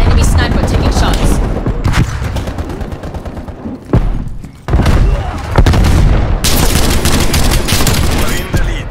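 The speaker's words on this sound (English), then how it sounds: "Enemy sniper taking shots." Sniper and other gunshots ring out in Call of Duty Black Ops Cold War Team Deathmatch multiplayer, loud dense bursts of gunfire and booms with brief gaps, steady battle noise throughout.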